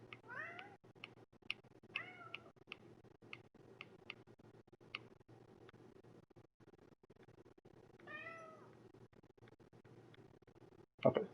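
A house cat meows several times, with rising and falling calls near the start and again later, heard close and fairly quiet over a steady ticking and a low hum, with no talk.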